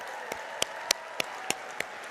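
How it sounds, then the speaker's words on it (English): Gala audience applause, a steady clapping wash punctuated by a few sharper claps at regular intervals, moderately loud and heard alone. "can we get a round of applause for Matt?"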